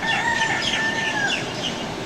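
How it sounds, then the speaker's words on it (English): Roosters crowing at morning in Kauai, Hawaii, with loud, close drawn-out calls rising over a bed of clucking fowl and outdoor background. "This is the morning of the last day for our vacation in Kauai, with the roosters crowing"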